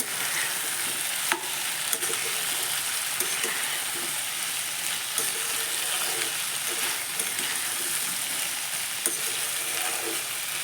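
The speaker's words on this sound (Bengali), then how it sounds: "আবার ঢাকনাটা খুলে নাড়িয়ে নেব" Small fish and pointed gourd curry sizzles steadily in a pan over low flame once the lid is lifted, with scattered spoon clicks and scrapes from stirring over the constant frying hiss.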